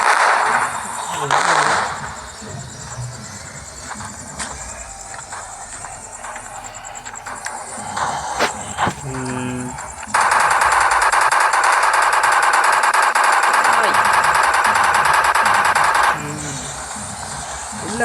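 Firecrackers burst near a swimming pool, sharp cracks and rapid rattling volleys at varying distances, including a long dense crackling stretch, with voices heard intermittently around them.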